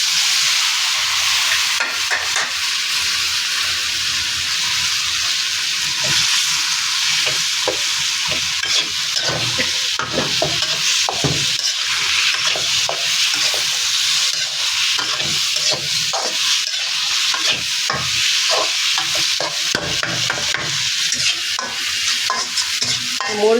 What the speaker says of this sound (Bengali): পটল আর কাঁঠালি বিচি মিক্সড করে দিচ্ছি